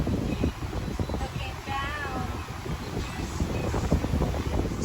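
Wind gusting across the open deck of a Princess 88 motor yacht near Palma in late October, blustery microphone rumble with waves beneath, while people talk nearby.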